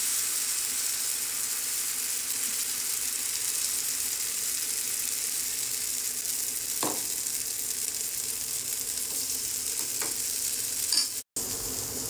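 Food fries in a pan greased with only a couple of drops of oil, giving a steady close sizzle throughout with a few brief clicks near the end and no talking.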